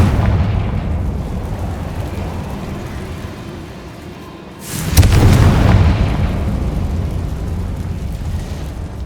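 A Confringo explosive spell blasting in Hogwarts Legacy: a deep booming burst erupts about halfway through and rumbles on, following a stretch of low ambient drone.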